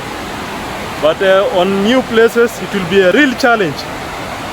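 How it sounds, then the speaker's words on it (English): Steady rush of a river near a village hike, a constant broadband wash running in the background while someone talks over it throughout. "That is noise coming from the river."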